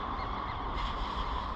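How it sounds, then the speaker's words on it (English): Waterfowl honk and call near a harbour wharf, a steady mid-distance chorus with faint water and ambient noise beneath, no talking. "the birds are singing"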